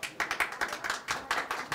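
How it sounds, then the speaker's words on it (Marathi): Audience applause at a Marathi stage play, a performance of the comedy Vastraharan: a sparse, fairly distant run of separate hand claps that never builds into full, dense applause. "अहो टाळ्या कशाला वाजवत आहेत?"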